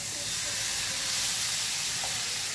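Boiled beans are added to a hot pan for beans fry and sizzle with a steady, loud hiss that carries on evenly, with a voice faintly present.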